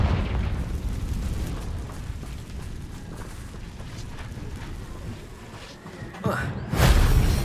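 The Confringo explosive spell cast in Hogwarts Legacy: a low rumbling bed of game ambience, then a sudden loud fiery blast bursting in near the end.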